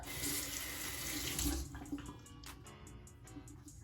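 A bathroom tap runs steadily to wet a hair brush, a close, loud rush of water that cuts off partway, leaving a few small splashes and drips.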